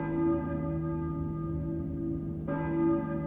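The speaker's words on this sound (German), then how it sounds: "Und wir hören die Glocken läuten." Church bells ringing in the video game Silent Hill, a deep resonant bell tone that sustains and fades, then is struck again around the midpoint with a clear ringing decay.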